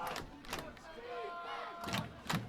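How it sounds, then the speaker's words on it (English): A crowd at a high school football game swells with cheering and shouts, rising in bursts at the start and again near the end, heard from nearby with a steady murmur of people between. "Crowd getting into it here in front of us."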